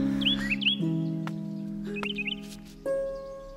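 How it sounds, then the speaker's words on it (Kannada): Birds chirp in short, bright, rising tweets scattered over a steady sustained musical drone, heard outdoors in a film scene, with no voices. "ಹಕ್ಕಿಗಳ ಕಲರವ ಕೇಳಿಸ್ದಾಗೆಲ್ಲ"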